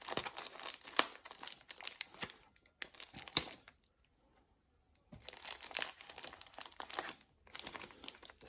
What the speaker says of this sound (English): there's a lot of tape on this. I'm trying to be as careful as I can not to squash the plant underneath as I take it off